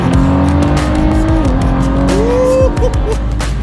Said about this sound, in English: This car is freaking amazing.